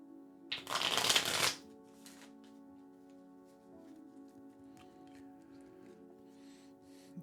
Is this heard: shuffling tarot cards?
yes